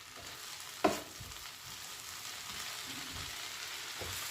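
Onion curry in a pan gives off a steady broadband hiss, with one sharp scrape of the spoon near the start and a softer stirring knock toward the end; no voices.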